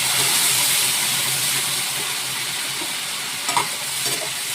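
Ground coriander and cumin paste fries loudly in hot oil in a pan, a dense close sizzle that eases slightly and then gives way to a couple of spoon scrapes near the end.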